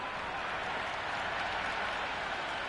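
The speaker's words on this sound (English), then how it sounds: "The crowd are really getting quite raucous." A crowd at a women's cricket match roars and cheers steadily, loud and continuous, with broad noise and no clear pauses.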